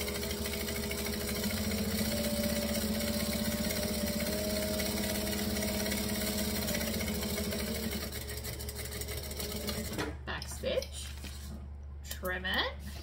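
A sewing machine hums steadily as it stitches and back stitches sparkly fabric, running continuously up close before stopping, followed by a few quieter handling sounds.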